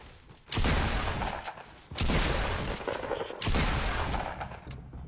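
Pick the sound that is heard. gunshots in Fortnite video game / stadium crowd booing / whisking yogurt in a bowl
gunshots in Fortnite video game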